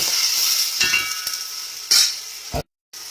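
Onions saute in a pan with cardamom and cloves for Saudi kabsa, a close, steady sizzle with a few louder bursts of spatter, briefly cut to silence before the sizzle resumes.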